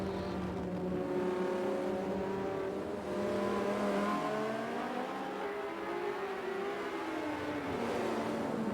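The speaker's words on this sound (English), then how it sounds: "You can just see how the Porsche puts down the power and then accelerates away from the Audi" Porsche race car in a sim racing game accelerating hard down the main straight, engine note rising steadily through the gears alongside another car's drone, loud and continuous with no talk.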